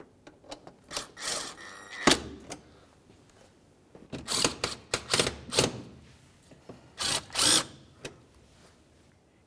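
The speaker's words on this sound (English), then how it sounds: "Let's reinstall our two Torx screws." Power driver running in two Torx screws on the windshield wiper linkage of a 2010–2013 Ford Transit Connect, heard as several short, sharp whirring bursts with clicks and clunks between them, close and fairly loud.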